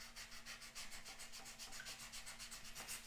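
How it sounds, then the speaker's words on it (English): Contrabassoon reed being sanded by hand with fine 600 grit sandpaper, a soft, regular back-and-forth rubbing stroke repeating about five times per second, close and quiet, with no talk. "what I like to do here is take a little bit of 600 grit sandpaper"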